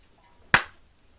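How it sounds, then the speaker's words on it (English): A single sharp hand clap, made for audio sync while recording the Moore of Cleveland podcast, rings out close and loud against near silence, then fades quickly. "I need a clap sync."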